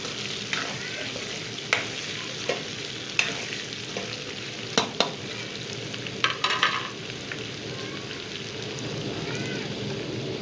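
Green garlic sizzles in hot oil in a karahi while making chicken karahi, a constant crackling fry broken by sharp scrapes and clinks of stirring, with no talk.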